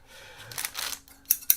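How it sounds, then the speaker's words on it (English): Scissors snip quietly while opening a Full Mechanics 1/100 Gundam model kit, a soft slicing rustle followed by two sharp, bright clicks of the blades closing, close by. "Scissors."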